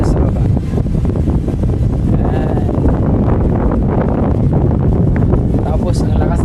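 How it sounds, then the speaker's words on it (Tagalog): Strong wind buffets the microphone at a hilltop cafe, a continuous loud low roar with gusting rumble throughout, no clear speech over it. "ang lakas ng hangin dito"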